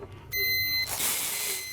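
A coffee roaster sounds a short electronic alarm beep, a bright steady tone that cuts in briefly over a hissing, whooshing machine noise that keeps running after the beep stops.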